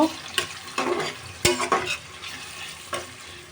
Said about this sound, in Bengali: পেঁয়াজগুলো আমি এভাবে গোল গোল করে কেটেছি এবার আমি একটু হালকা করে ভেজে নেব